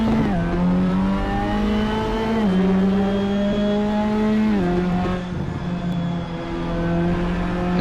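A Ginetta GT5 race car lapping Brands Hatch in a racing simulator game: a close, steady engine drone that rises and drops through gear changes, with no one speaking.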